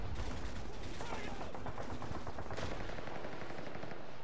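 Sustained machine gun fire from the Call of Duty MW3 video game, loud and dense throughout with rapid bursts and a sharper crack near the middle, and faint voices mixed underneath.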